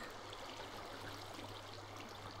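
Strong water current flowing in Minecraft, a steady, even rush of stream-like trickling that holds constant throughout, fairly faint, with no voices over it.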